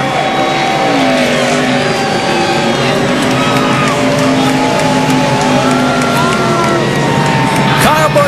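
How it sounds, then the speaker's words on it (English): A NASCAR Nationwide Series crowd at Texas cheers loudly on its feet for Kyle Busch's win, a dense roar of whoops and shouts with race car engines droning underneath throughout. "these fans are going to appreciate what he did as you hear them on their feet cheering for this youngster's first victory of the year"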